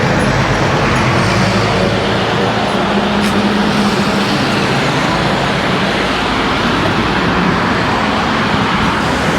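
Steady, loud roar of heavy traffic on a busy highway in Lindfield, Sydney, with cars, buses and trucks streaming past close by and no break in the wash of road noise.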